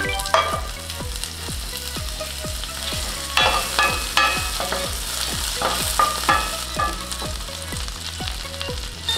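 Bulgogi filling stir-fries in melted butter in a pan, a loud continuous sizzle layered with a rapid, regular run of spatula scrapes and clinks close by.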